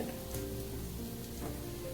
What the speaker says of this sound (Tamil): இப்போ குழம்பு நல்லா கொதிக்குது.